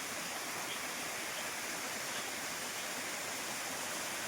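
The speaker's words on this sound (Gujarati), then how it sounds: "અહીં ધોધ પડે," Steady roar of a waterfall between hills near a temple in hill country, a constant dense rush of falling water heard close and loud with no voices.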